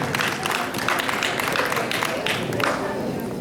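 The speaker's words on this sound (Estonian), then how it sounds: "loomulikult võib plaksutada" Audience applause at a ballroom dance competition final, a steady dense wash of clapping from a crowd filling the room, with an announcer's voice speaking over it.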